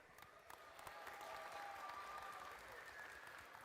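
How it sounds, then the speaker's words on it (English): Applause from an audience at a one-on-one basketball league event, a steady wash of clapping at moderate level that holds throughout, fairly distant, with faint tonal sounds above it. "give these young men a round of applause"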